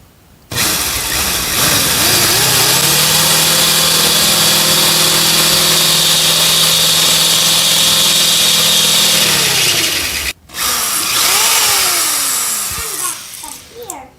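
Power drill boring the second hole through a riding mower's metal back plate, a loud close whine held steady for about nine seconds, a brief stop, then a shorter burst of drilling with shifting pitch.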